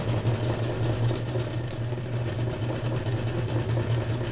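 An electric sewing machine runs a straight stitch through junk journal paper pages, a steady fast mechanical whir with a low humming buzz, continuous and close for a few seconds.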